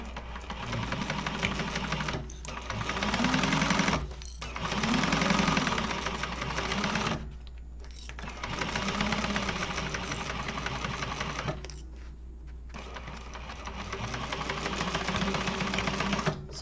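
A sewing machine stitches a seam while a lining is sewn into a garment, giving a steady mechanical whirring hum in long runs, with brief pauses between bursts. The sound is close and even, and no one speaks.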